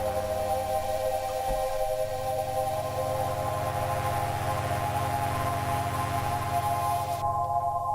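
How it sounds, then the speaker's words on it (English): Sustained synth pads hold layered chords under a constant hiss of grainy digital noise from a bit-reduction effect, with a lower pad entering after a moment and the noise thinning near the end. "You can see there you got quite a noisy sound going on there with the pads."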